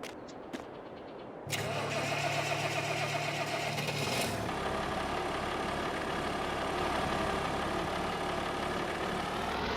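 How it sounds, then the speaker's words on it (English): An old tractor engine cranks over and catches, then settles into a steady, loud idle that runs on alone without talk. "I do love this old tractor."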